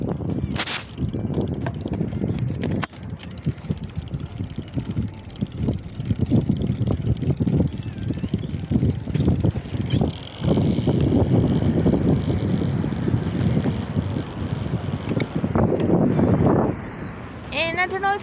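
Riding a bicycle with a small camera mounted on the helmet, wind buffeting the microphone and road rumble running throughout, with a few sharp rattles and a person talking over much of it.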